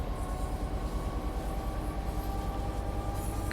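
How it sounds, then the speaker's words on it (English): In a train simulator game, a freight train accelerates onto the main line with a steady low rumble and rapid, even wheel clacking, plus a faint tonal hum, continuous and close throughout. "Coming out in the main line now, so we can accelerate up to 25"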